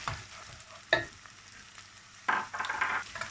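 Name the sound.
chopped green chilies added to frying onions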